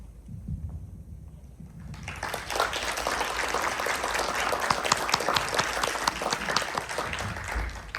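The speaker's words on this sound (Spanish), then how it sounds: "por favor, un aplauso a estos jóvenes" Audience applause for young presenters breaks out after a quiet opening, swelling into a dense, sustained roar of many clapping hands that holds steady to the end.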